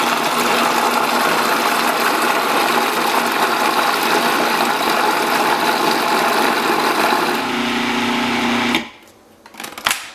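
A large food processor churns cream into cultured butter with a loud, steady motor whir for about nine seconds, then cuts out abruptly, leaving a few faint clunks.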